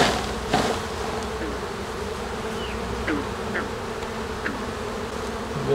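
Honeybees buzz in a dense, steady drone close by as they are shaken from a hive frame, with a few sharper individual buzzes rising above the swarm.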